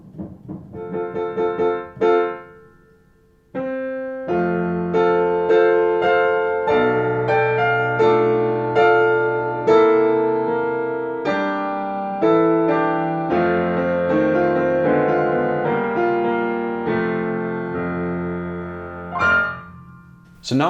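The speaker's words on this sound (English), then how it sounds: "if you mute the acoustic piano and only play with the digital piano through the soundboard" A 1915 Ekströms upright piano played as a digital piano through soundboard transducers, with natural string resonance: a few opening notes, a pause, then flowing sustained chords and melody for nearly twenty seconds, close and clear, no talk.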